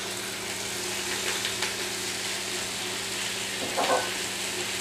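Peas, lettuce and parsley stirred around a hot pan, giving a steady soft sizzle with a few brief scraping stirs and a louder clatter near the end.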